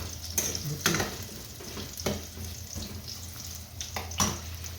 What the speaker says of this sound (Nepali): आलुलाई तेलमा फ्राई हुनु दिने